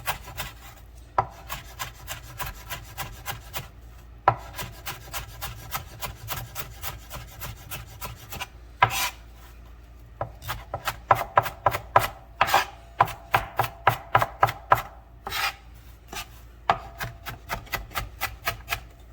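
A knife dices an onion on a cutting board, with quick close chops falling in uneven runs, sparse at first and then a dense rapid rhythm of crisp taps, no talking.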